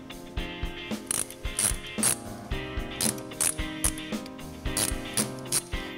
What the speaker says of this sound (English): Start by simply removing the 3 Allen bolts that are holding the diverter valve in place.